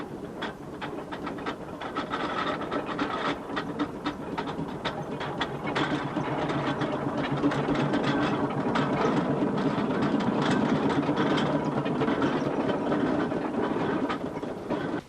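A Cornish-made 1919 five NHP general purpose steam compound traction engine, fully sprung with an extra long boiler and three-speed gearing, runs with a continuous rhythmic mechanical chuffing and clatter that swells slightly louder and stays steady throughout.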